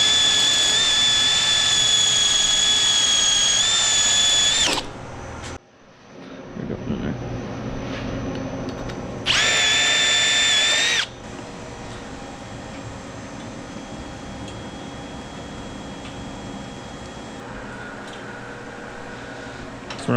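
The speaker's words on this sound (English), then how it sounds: "So I'm going to drill these out, put them in a vise." A power drill whines loudly in two sustained runs while drilling out parts for a Can-Am X3 Maverick four-door, a long run and then a shorter one, with a steady low hum in between.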